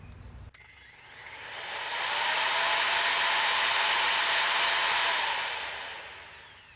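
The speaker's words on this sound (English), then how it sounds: "It runs the saw." An electric saw powered by a DaranEner NEO2000 LiFePO4 portable solar power station spins up slowly through its soft start, holds a steady whirring hum, then winds down, heard fairly close with no talking.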